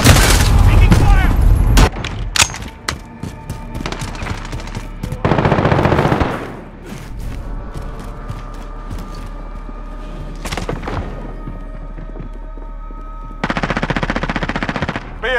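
Heavy automatic gunfire from a Call of Duty: Modern Warfare firefight, loud sustained bursts of machine-gun fire broken by brief lulls and sharp single shots, with game voice callouts mixed in.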